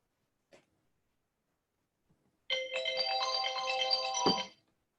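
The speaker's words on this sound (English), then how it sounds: "That was my alarm to get up in the morning" A phone alarm rings out as a bright, repeating melodic tone for about two seconds, clear and close, after a brief faint click and surrounding quiet.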